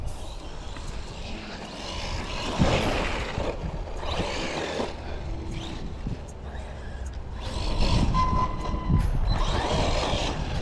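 A Team Corally Kagama 4 RC car runs around corners, its motor a steady whirring drone with rising and falling surges as it turns, heard from a moderate distance in open air.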